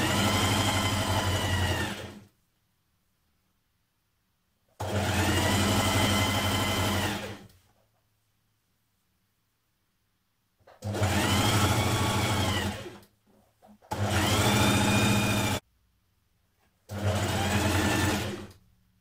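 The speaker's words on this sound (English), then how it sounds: "You're going to sew from the bottom up the side, match that seam under the arm and into the sleeve there." Sewing machine sews a T-shirt side seam with a stretch stitch in five separate bursts of steady running, each about two to three seconds long and separated by silent pauses; close and clear, no talking.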